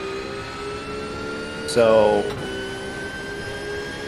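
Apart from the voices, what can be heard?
race car engines at the 24 Hours of Daytona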